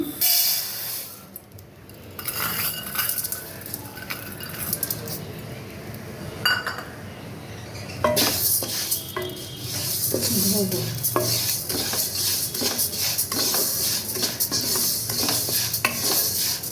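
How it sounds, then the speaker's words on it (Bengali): Moong dal being stirred and dry-roasted in a wok on a gas stove, with a spoon scraping and clinking against the pan in a quick repeated rhythm and a light sizzle, close and clear, under occasional talk. "ডালটা এরম নাড়াচাড়া করে আমি ভেজে নেব"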